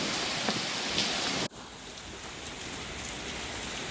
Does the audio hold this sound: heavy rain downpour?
yes